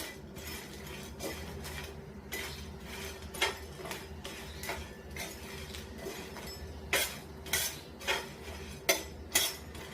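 Whole spices, including cumin seeds, dry roasted in a pan over a low flame for biryani masala, giving a steady low hum with repeated light metallic scrapes and clinks of a spoon stirring, louder toward the end.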